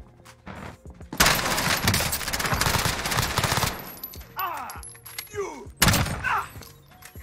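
Gunfire in Warzone, the battle royale shooter, with a long, dense automatic burst followed by scattered single shots and a second sharp burst, loud and close, with some background game noise between the volleys.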